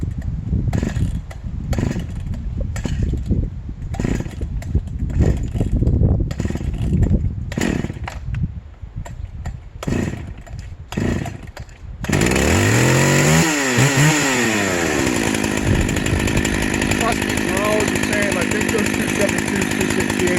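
A 30-year-old Husqvarna 272XP chainsaw with a sharp chain milling maple: first a loud, choppy run of cutting with uneven revs, then a steady, close, full-throttle roar as the bar works through the log.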